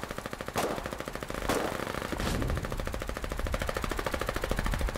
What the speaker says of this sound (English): Oh, that's the SMG sounds so cool.